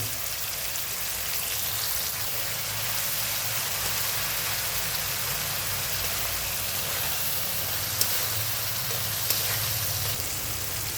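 Tomatoes sautéing with a little salt in a hot pan give a steady, dense sizzle and crackle that runs unbroken throughout, close and fairly loud, with only a couple of faint clicks and no voices.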